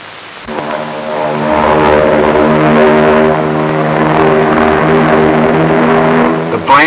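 Catalina flying boats taking off on an air-sea rescue patrol, a loud, steady droning roar of piston engines and propellers that swells in after a brief quiet start and holds strong throughout.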